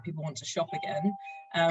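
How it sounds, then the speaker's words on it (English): A doorbell chimes during a work-from-home webinar, a faint tone held under a man's ongoing speech and then alone in a brief pause. "apologies for the doorbell"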